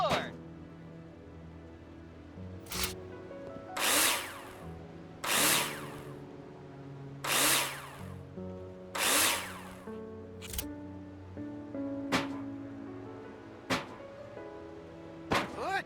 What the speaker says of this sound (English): screw them in with a drill